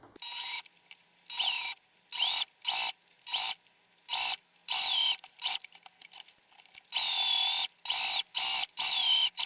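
A sewing machine stitching fabric in a series of short, fast whirring bursts with brief pauses between them, close and clear, with no talking.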